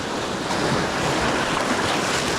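Clear sea swell washing over coastal rocks on the Cumbrian shore, a loud continuous surf roar with wind noise buffeting the microphone, no voices.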